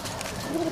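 Pigeon cooing close by in a dovecote in Kropotkin, a brief low throaty coo over a noisy, rustling background of other birds.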